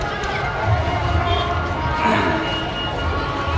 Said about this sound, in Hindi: खतरनाक भीड़ है भाई, खतरनाक भीड़ है।